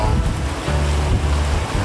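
Rushing, splashing water on a rapids water ride, a steady broad wash of surf-like noise with low wind-buffet rumble, loud and continuous with no talk.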